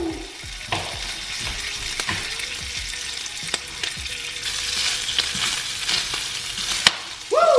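Bacon strips fry in a hot pan with a constant loud sizzle, broken by sharp pops and crackles scattered throughout, and a sudden louder burst of spitting grease near the end.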